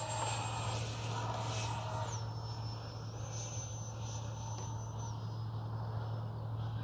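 Freewing 80mm F-22 Raptor RC jet flying in a race, a steady distant whine of its electric ducted fan whose pitch shifts as it passes, over a constant low hum.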